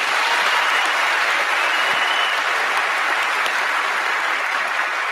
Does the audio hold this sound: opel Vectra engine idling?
no